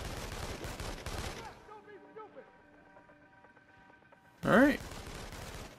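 Gunfire in the video game inFAMOUS: Second Son, a dense burst of shots at the start that breaks off into quieter tonal game sounds, then one sharp loud blast near the end, with a brief spoken remark.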